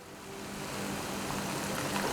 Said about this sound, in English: I would like to add a little bit touch of water.